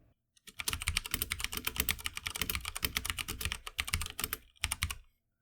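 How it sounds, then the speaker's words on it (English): Steady, fast typing on a MagicForce 68-key mechanical keyboard with Cherry MX Brown switches, dense close clacking keystrokes with a brief pause near the end. "The typing experience, for the cherry MX brown in this case, is certainly quite solid and satisfying."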